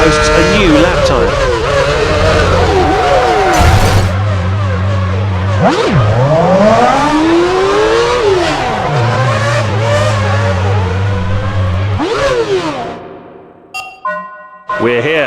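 Formula 1 race cars lapping the Gilles Villeneuve circuit in Montreal in the PS3 game F1 Championship Edition: a loud, continuous engine whine with rising and falling pitch sweeps through gear changes, fading near the end, with a voice speaking over it.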